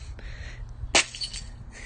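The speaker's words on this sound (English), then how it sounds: "I'll chuck in a little video actually that I sent to my friend of me breaking ice in the morning" Ice breaks in a garden in the morning, one sharp cracking crunch in the middle of a short, quiet outdoor moment.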